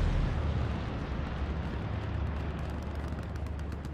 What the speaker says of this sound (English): I think the bombing run did some damage